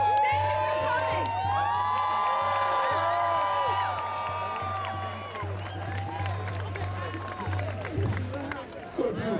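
A large outdoor rally crowd at the Hash Bash in Ann Arbor cheers, whoops and shouts loudly and continuously, with overlapping voices and some clapping blending into a dense roar.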